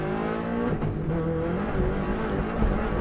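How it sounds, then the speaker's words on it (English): A Subaru WRX STI at speed on the Isle of Man road course, its engine droning loudly from inside the car with low thumps as it bumps across the road. "Car bumping across the road there."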